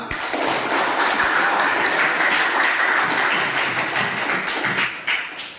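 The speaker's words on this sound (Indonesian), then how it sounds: "Oke, tepuk tangan semua." Audience applause in a classroom setting, dense steady clapping from many hands filling the space loudly and continuously, then tapering slightly at the end.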